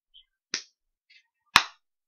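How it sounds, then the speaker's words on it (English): A person gives a few sharp, isolated claps, two louder smacks about a second apart with softer taps between, close by in a quiet room. "Oh, she's clapping."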